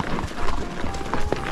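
A horse canters on a forest outing, its hooves thudding in a loose rhythm close by over rustling ground and ambient noise, with no voices during the clip.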